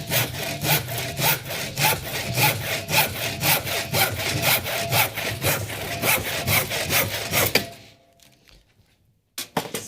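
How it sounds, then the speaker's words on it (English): Wood is hand-sawn in a workshop during snare drum prototyping, in steady back-and-forth strokes that are loud and close. The rapid, even rhythm runs for nearly eight seconds, then stops abruptly, leaving near silence. "Sawing sounds might be a bit loud for y'all."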